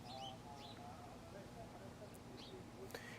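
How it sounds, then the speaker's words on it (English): Small birds chirping outdoors, a few faint short tweets scattered over a low background murmur, distant and quiet. "the little birds, they're out there chirping"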